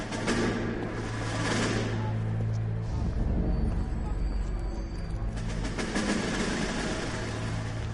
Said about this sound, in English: Holy shit, a choo-choo train.